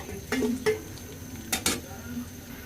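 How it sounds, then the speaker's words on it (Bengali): Onions frying in hot oil for a Bengali vegetable dish, a low steady sizzle with a few sharp clinks and scrapes of a utensil against the pan, close and fairly quiet. "তেলটা গরম হয়ে গেছে পেঁয়াজটা দিয়ে দিই"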